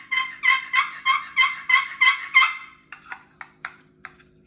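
A wooden box turkey call, two chalked wooden pieces slid against each other, gives about seven loud, rhythmic raspy yelps followed by several shorter, softer clucks, close and alone.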